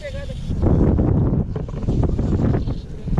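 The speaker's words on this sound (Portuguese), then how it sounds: "A ventania comendo" Strong wind buffets the microphone during fly fishing for trairão, a steady loud rumble filling the whole clip with water and boat noise mixed in and faint voices underneath.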